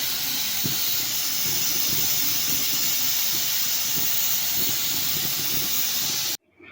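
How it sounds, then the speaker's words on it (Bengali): A pressure cooker boiling lentils with green chillies, salt and water lets off a loud, sustained hissing whistle of steam up close, holding steady for several seconds before cutting off abruptly near the end. "ডাল এদিকে সিদ্ধ হচ্ছে, ছিটি দিচ্ছি"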